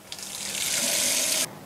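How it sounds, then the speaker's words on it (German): Water from a tap gushes steadily into a sink or basin to soak a Römertopf clay pot, a close, bright rush that starts and then cuts off abruptly. "lasse ich meinen Römertopf im Wasserbad schön vollsaugen."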